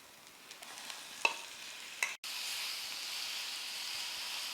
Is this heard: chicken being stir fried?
yes